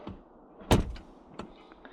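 A door is opened during a home upgrade: a soft clunk and a sharp latch release, then a fainter rattle as it swings, close by in a quiet room.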